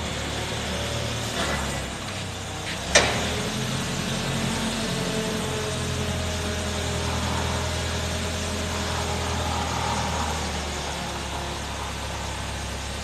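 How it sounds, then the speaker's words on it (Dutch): A forklift's diesel engine idling steadily after a cold start, with a low, rumbling drone and a brief knock near the start, continuous and close throughout. "Dit is een koude motor starten."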